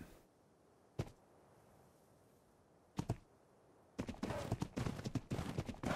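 In the game ARK, a horse's hooves strike: two sharp, isolated knocks in near silence, then a dense, louder burst of rapid hoofbeats through the final two seconds.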